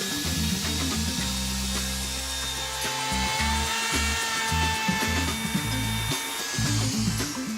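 Router bit shearing through the laminate surface of a kitchen island countertop, a loud continuous grinding whine with a steady high tone and shifting low rumbles as the cut advances, no voices.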